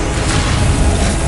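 A Confringo blasting curse goes off in Hogwarts Legacy as a loud, dense, sustained burst of booming, crackling noise lasting about a second.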